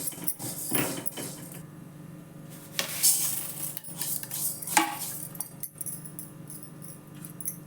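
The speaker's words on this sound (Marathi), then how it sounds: "आता हे कणी भाजून घेते थोडे" A spatula scrapes and stirs dry broken lentils around a metal pan while dry roasting, with uneven rattling and occasional louder scrapes, close up and with no voices.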